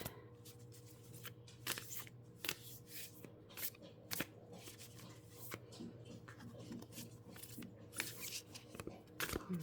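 Tarot cards are shuffled and drawn, soft rapid riffling and papery slaps repeating over a steady low hum, close and quiet.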